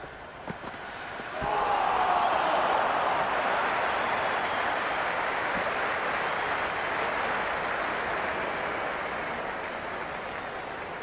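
Cricket stadium crowd in the Cricket 26 game during a New Zealand vs England T20 World Cup match, a sustained loud roar and cheer that swells after a brief quiet start and holds steady.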